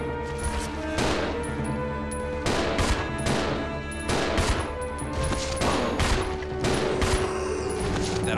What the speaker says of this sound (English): Whoops, I don't know what I'm shooting at.